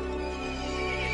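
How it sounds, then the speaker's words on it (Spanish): A horse in the video game Resident Evil Village lets out a loud, close, rough neigh that lasts about a second, with no voices over it. "El caballo se enfureció y llamó a las otras criaturas."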